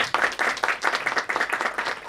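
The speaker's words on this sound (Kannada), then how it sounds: "ನಿಮ್ಮೆಲ್ಲರಿಗೂ ಫಸ್ಟ್ ಒಂದು ಜೋರಾದ ಚಪ್ಪಾಳೆ ಹಾಕೋಣ." Loud rhythmic clapping from an audience at a Kannada movie song launch event, with close, distinct hand claps in a brisk, uneven pulse.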